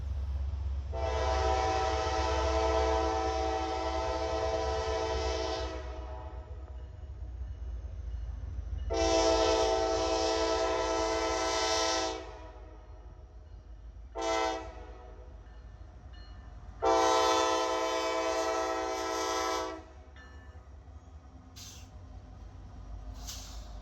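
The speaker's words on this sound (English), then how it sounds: "lo and behold, 44G for Norfolk Southern has just arrived" Norfolk Southern freight train 44G arriving while its horn sounds in four long blasts separated by short gaps, with a couple of brief toots between them, loud over a low rumble.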